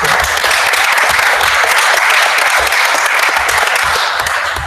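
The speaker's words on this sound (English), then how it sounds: "I think we owe Bob a round of applause" Applause fills a city council special meeting in Ottumwa, a dense, steady wash of many hands clapping at a constant loud level from start to finish, with no voices breaking through.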